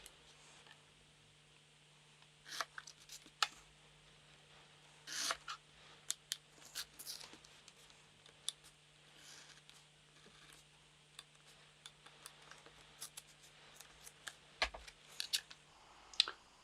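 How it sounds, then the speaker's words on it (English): A scalpel peeling back layers of card, with small irregular scratches, ticks and brief tearing scrapes spread across a quiet room, close and faint. "I'm just going to go in there with the scalpel and peel back those bits."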